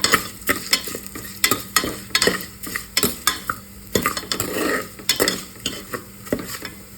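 Lentils and garlic fry over a medium flame while a utensil stirs them, giving repeated sharp scraping clacks against the pan over a steady sizzle, close and moderately loud, with no talking.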